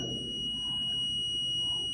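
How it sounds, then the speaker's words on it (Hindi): A multimeter beeps steadily during a continuity test on a wire, its probes touching each end: one continuous high-pitched electronic tone that holds without a break over a faint room hum. "with the help of beep sound that the multimeter is making"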